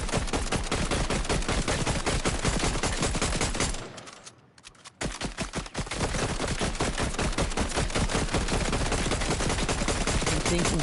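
Video game gunfire rattles in dense, rapid automatic bursts, loud and nearly continuous, with a brief lull of about a second before firing resumes just as hard.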